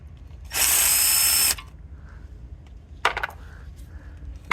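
A power drill whirs loudly for about a second during rod bearing and crankshaft replacement on a 2015 Kia Optima, followed by quieter clicks and a brief second burst of mechanical rattling.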